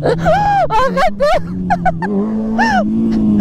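A motorcycle engine hums low and steady during stunt practice, stepping up slightly in pitch as it revs, while someone shouts and exclaims loudly over it.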